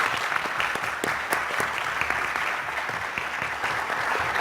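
Sustained applause from a seated audience at a voting rights forum, dense and steady clapping throughout with a few sharper individual claps standing out near the front.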